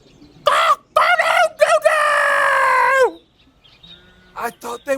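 A voice imitates a rooster crowing loudly: several sharp, clipped calls, then one long, sustained crow that falls off at the end, followed by quieter short calls.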